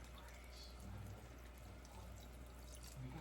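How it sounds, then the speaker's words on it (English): Liquid Jell-O is poured from a container into a deep dish, a soft continuous wash of pouring with no pauses. "now I'm going to pour the Jell-O"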